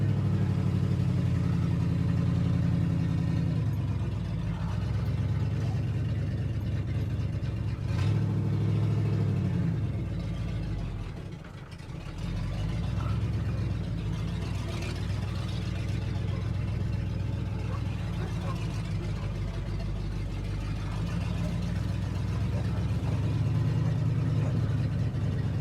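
A 1978 Ford F-250 pickup drives on its V8 with a steady mid-pitched engine drone that swells with throttle and briefly drops away, loud and close, with no one talking.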